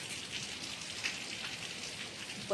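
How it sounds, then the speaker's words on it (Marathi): Steady rain falling and pattering on a surface, a constant hiss of drops throughout with a brief sharper splash near the end. "पाऊस"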